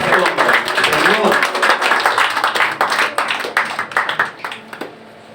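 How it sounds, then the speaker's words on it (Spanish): A church congregation claps for the Lord during a sermon, with loud, sharp handclaps that fall into an uneven rhythm and thin out toward the end, while a voice talks over them. "Dale un aplauso al Señor"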